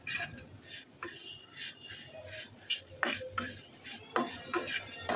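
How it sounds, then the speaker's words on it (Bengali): Flattened rice (chira) stirred in a pan over low heat, giving irregular scraping and clinking of a utensil against metal, with scattered sharp taps and soft rustles of the dry flakes up close. "নেড়ে চেড়ে ভালো করে ভেজে নেব।"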